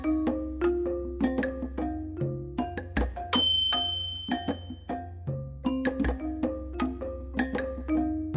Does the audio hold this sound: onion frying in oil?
no